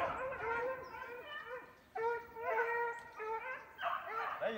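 Hunting dogs chase a rabbit, giving a chorus of overlapping baying and yelping barks that carry from some distance, rising and falling in bursts throughout.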